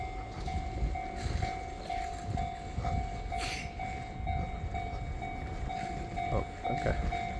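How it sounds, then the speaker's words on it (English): A train rolls by at a distance during a city walk in Fukuoka, Japan, giving a steady rumble with faint rail clatter and a brief high whine, under street ambience with a voice now and then. "train's coming."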